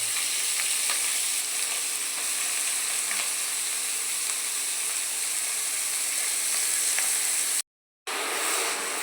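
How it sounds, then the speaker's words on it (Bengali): Mushrooms frying in hot oil in a pan with chopped chillies, a loud, continuous close sizzle and crackle with a few faint clinks, briefly cutting out near the end. "তেল গরম হয়ে গেছে, মাশরুমগুলা দিয়ে দেওয়া হচ্ছে,"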